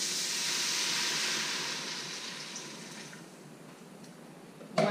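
Beef stock poured into an Instant Pot, a steady splashing hiss of liquid that fades toward the end, close and alone, with a brief clatter at the finish.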